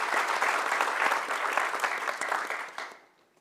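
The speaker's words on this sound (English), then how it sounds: "please give Christina a warm round of applause" An audience at a climate-tech summit panel applauds a speaker's introduction with a dense, steady round of clapping that holds strong, then fades out toward silence at the end.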